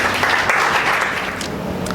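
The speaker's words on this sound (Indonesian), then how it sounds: "Berikan tepuk tangan dulu." A church congregation applauds during a worship service, a steady, dense wash of clapping that carries evenly throughout.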